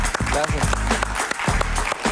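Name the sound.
audience applause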